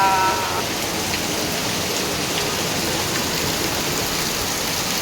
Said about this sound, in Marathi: बघा किती पाऊस आहे मुंबईला